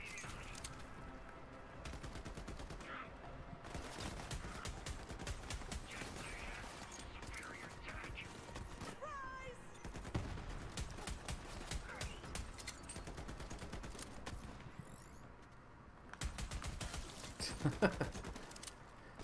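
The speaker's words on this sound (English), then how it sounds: "Sometimes it's fun just to spam the fire button." Rapid gunfire from Borderlands 3 fills the scene, with dense bursts of shots repeating steadily throughout alongside mechanical clatter and game noise, and a louder flurry near the end.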